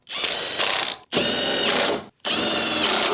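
Three loud bursts from a ratchet or power tool tighten an engine mount bolt on a Mazda 2, each about a second long with short gaps between them, close up and with no voices.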